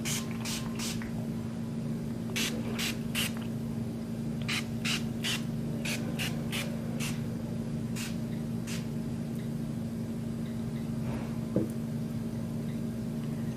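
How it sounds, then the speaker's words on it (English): Quick bursts of a spray bottle, several short hisses in uneven clusters, close by over a steady low hum. "I still have a few more sprays to apply."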